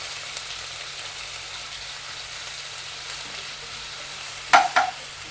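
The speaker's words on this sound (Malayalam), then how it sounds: "ഇനി ഇതിലോട്ട് 1 table spoon ginger garlic paste ഇട്ട് കൊടുത്തേ" A tablespoon of ginger garlic paste fries in hot oil with a steady, even sizzle throughout, and two sharp utensil clacks come near the end.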